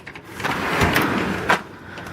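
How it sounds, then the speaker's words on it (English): A sliding door with cellophane lining its inside slides along its track, giving a continuous rough scraping rush for about two seconds that ends in a brief louder knock near the close. "And this is a sliding door."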